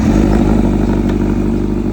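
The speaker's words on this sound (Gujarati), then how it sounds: "સુપર બાઇક આપણે પહેલી વાર ઓન કરીએ છીએ" A Kawasaki Z900 superbike engine runs loud and close, a steady throbbing rumble that fills the whole clip.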